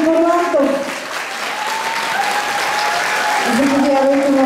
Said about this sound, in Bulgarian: Аплодисменти за режисьора и ръководителя на Антракт